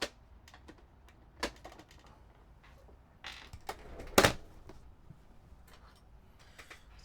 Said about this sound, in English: Remove keycaps.